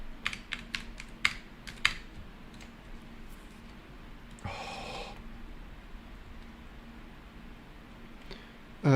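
Someone types on a computer keyboard in quick, crisp bursts of clicks at the start and again near the end, with a breathy snort in between and low room noise.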